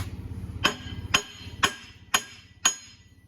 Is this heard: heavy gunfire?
no